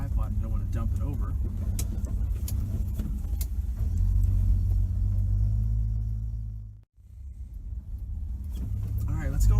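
A 1967 Plymouth Valiant with a slant six engine cruises down town side streets, its low engine rumble steady inside the cabin, easing briefly near the end before picking up again, with clicks and rattles mixed in.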